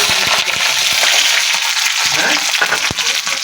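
Chunky onions and garlic frying in a pan with dried red chilli, a loud close sizzle with scattered spatula scrapes and knocks against the pan throughout, no voices.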